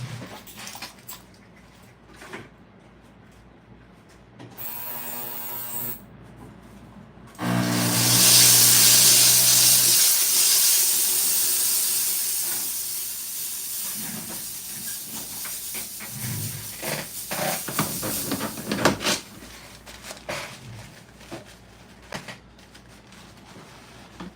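A steamer hisses in a loud, steady burst while a watch is being worked on, rising sharply then slowly fading over several seconds, with clatter and bench noises around it.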